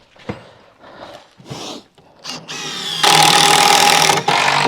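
A power driver runs screws into a tall timber wall frame being lifted, with a few short knocks and whirs followed by a long, loud, steady driving burst near by and a final shorter run.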